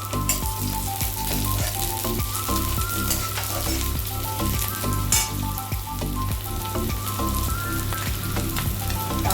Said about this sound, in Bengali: দেখুন ভাজা ভাজা হয়ে গেছে। এরপরে কাঁচা লঙ্কাগুলো দিলাম